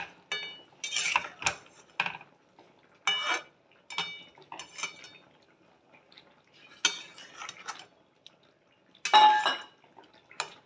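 Katla fish curry with spices and sugar is stirred gently in a pan, with soft scraping strokes and clinks of a spoon coming in irregular bursts between quiet pauses.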